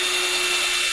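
Power drill whirring steadily while pre-drilling screw holes in pine for a simple lattice wall shelf, one continuous close, loud high-pitched spin with no voices.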